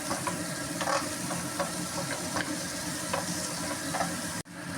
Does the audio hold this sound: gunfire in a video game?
no